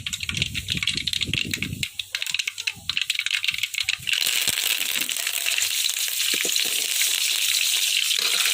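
Curry leaves drop into hot oil with mustard seeds and burst into a loud, steady sizzle and crackle that holds for several seconds after some brief clatter.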